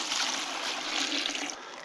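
Water is tipped into a gold pan holding saved gold concentrates, a brief steady pouring splash, close and moderately loud with no talking.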